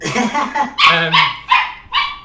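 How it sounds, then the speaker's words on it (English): A dog barks repeatedly at the floor, with four or five loud, close yelping barks in quick succession after a brief whiny lead-in. "She's just barking at the floor. She's looking at the floor and barking at it."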